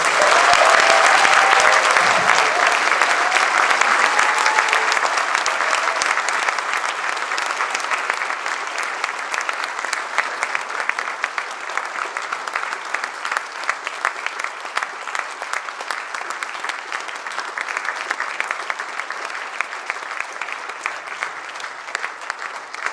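Sustained, dense applause from a large audience at a closing ceremony for a guest conductor, loud and steady at first and then slowly thinning over about twenty seconds.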